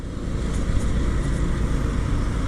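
Cars and motorbikes pass on a busy road in steady, continuous traffic, a loud broadband rush and engine drone with no breaks and no voices.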